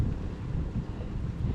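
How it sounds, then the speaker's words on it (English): Outdoor wind gust buffeting the microphone in a garden during seed sowing, a steady low roar of rumbling noise with no voices. "a gust of wind just came like out of nowhere"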